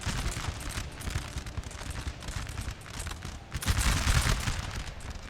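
Musket volleys crackle in a pitched battle in Napoleon Total War, a dense, continuous fusillade of overlapping shots that swells louder toward the end, with no voices.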